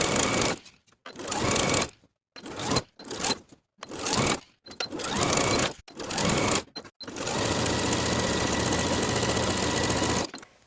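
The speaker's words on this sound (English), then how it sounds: "Sew the crotch curve with a 3/8 inch seam allowance from the top of the back to the top of the front" A sewing machine stitches the crotch seam of a pair of barrel leg pants in short bursts of rapid whirring separated by pauses, then one long continuous run at the end, close and clear.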